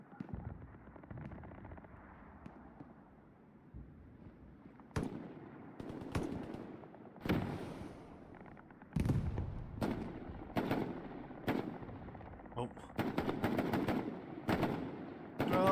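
Machine gun fire sounds in the World War II shooter Hell Let Loose, with sharp, loud bursts and single shots booming at irregular intervals over a dull battlefield rumble.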